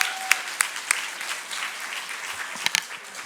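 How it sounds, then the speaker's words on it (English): An audience at an American awards gala applauds the MC, a short, moderately loud patter of clapping with a few sharp individual claps standing out. "Can we give another round of applause to Michelle Lee, our MC?"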